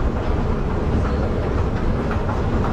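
Train at KL Sentral station in Kuala Lumpur, a loud steady rumble of carriages moving on the rails with faint clattering, close by and without talk.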